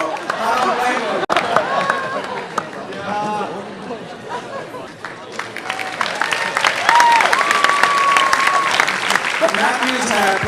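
Applause from a high school senior awards night audience, starting under a speaker's voice and swelling into a loud, sustained round of clapping with scattered cheers and crowd chatter.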